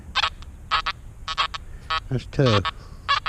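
Anfibio Multi metal detector sweeping a freshwater beach at 99 tones and max gain, giving repeated short iron-type tones in bursts, with a person's brief remark cutting in near the end.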